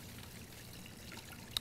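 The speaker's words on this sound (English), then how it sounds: "and pour that right over your turkey." Brine poured over a turkey sitting in a garbage bag, a soft, steady trickle of liquid running for a couple of seconds, faint and close, with a brief brighter splash near the end.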